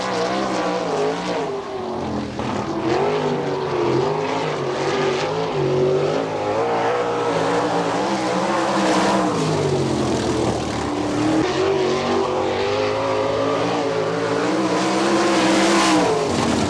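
Sprint race cars lapping a dirt oval at an All Star Circuit of Champions event in Findlay, Ohio, their engines roaring loud and continuous with rising and falling pitch as they pass, with no talk over it.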